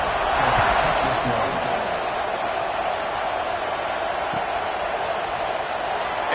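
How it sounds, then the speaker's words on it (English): Stadium crowd in the NCAA 26 college football video game buzzing steadily after a score, a dense, continuous roar of many voices at even loudness, with commentary talk over it. "this crowd is buzzing after that last score"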